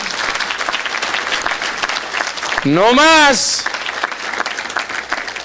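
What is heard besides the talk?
congregation applauding in church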